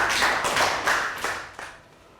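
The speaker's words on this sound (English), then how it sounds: "Round of applause for Pet." A Year 3 math class gives a short round of applause, with a few bursts of close clapping that fade out within two seconds.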